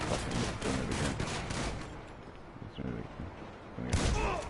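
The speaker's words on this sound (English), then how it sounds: "You can't come in here and start shooting stuff!" Video game gunfire sounds as rapid bursts of shots blended with loud, excited talk, then a louder burst near the end.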